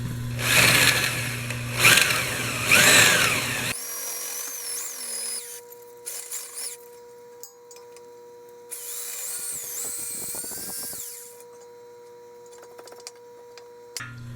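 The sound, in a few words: drill bit boring into frozen axle bolt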